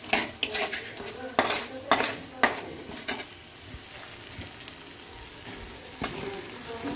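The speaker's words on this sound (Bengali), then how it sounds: "এবার এতে আমি আলু দিয়ে দেবো" Potatoes going into frying masala for matar paneer: several close clattering knocks of a spoon against the pan, then a softer continuous sizzle of frying.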